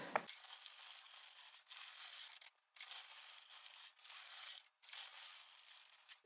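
An LK150 knitting machine carriage sweeps across plain-stitch rows on a lacy scarf, giving several steady raspy passes with brief pauses where the carriage reverses direction. The sound is close and clear, with no talk.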